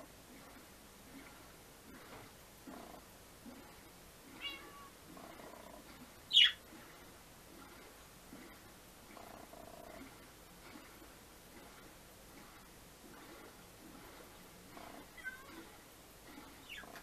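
Minecraft cat meowing in the video game, with soft repeated mews and one louder sharp meow partway through. The sounds sit faintly over a low background hum.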